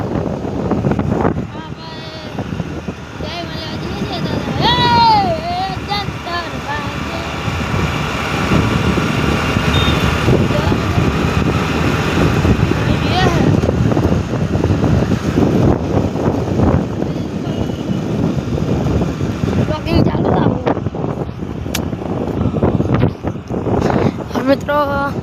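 Honda Activa scooter ridden along a road, with steady wind buffeting the microphone over a low engine drone throughout, and voices talking over the ride.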